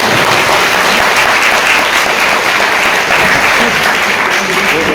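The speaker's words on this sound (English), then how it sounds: "Round of applause." An audience at a Krishna Consciousness talk breaks into sustained applause, a dense, steady wash of clapping filling the hall for several seconds.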